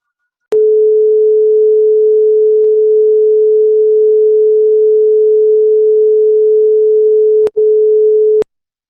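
Two pure tones sounded together to produce beats, a loud steady hum held for about seven seconds with a brief dropout near the end and sharp clicks at start and stop.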